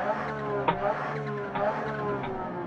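A rally car engine in Dirt Rally VR on a snowy stage, droning with a harmonic tone that rises and dips through a few brief revving surges, moderately loud and close.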